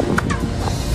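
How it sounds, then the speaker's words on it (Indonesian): Chirp-like echo rings back from El Castillo, the Maya pyramid in Cancun, Mexico, resembling a quetzal bird's call: a couple of quick, bright chirps close together over a steady background. "Piramida bernama El Castillo ini bisa mengeluarkan suara bak cicit burung Quetzal"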